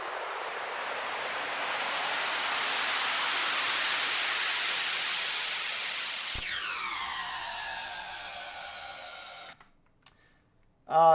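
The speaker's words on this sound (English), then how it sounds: "More white noise, of course." A swelling wash of white noise rises and fades for several seconds, then cuts to ringing synth tones and a short final burst in an electronic track.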